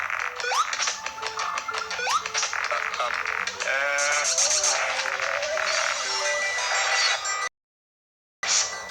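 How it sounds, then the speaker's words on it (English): Minecraft goats bleat in a mountain setting, several wavering, nasal cries in quick succession, fairly loud and close, layered over busy in-game sound before a brief cutoff near the end. "The goat is getting away."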